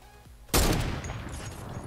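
A single loud, close gunshot from the player's weapon in Fortnite cracks out after a brief quiet moment, its boom decaying into a lingering tail.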